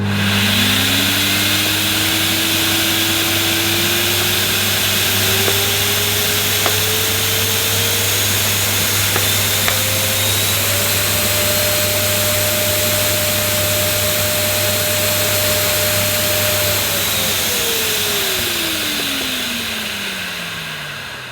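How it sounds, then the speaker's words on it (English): A compact Karcher TSC 555 vacuum cleaner runs steadily during a sealed suction test, its motor a loud continuous drone whose whine climbs in pitch as suction builds, holds level, then falls away. "So this Karcher peaked at around 90 on the suction gauge"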